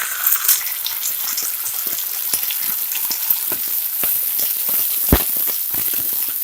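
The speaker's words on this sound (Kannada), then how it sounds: "ಈಗ ರುಬ್ಕೊಂಡಿರೋ ಈರುಳ್ಳಿ ಮತ್ತು ಟೊಮ್ಯಾಟೊ ಪೇಸ್ಟ್ ಹಾಕ್ತಾ ಇದ್ದೀನಿ." Ground onion and tomato paste hits hot oil in a frying pan for chicken liver gravy, sending up a steady, loud sizzle with scattered crackles and pops, one sharper spit near the end, and no voices.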